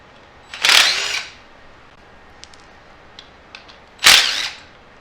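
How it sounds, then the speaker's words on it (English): Impact wrench spinning off 12mm motor mount bolts during an aftermarket air filter and crank vent hose job, two short loud rattling bursts about three seconds apart with quiet shop noise between. "Now I like to cheat, so I'm going to use an impact."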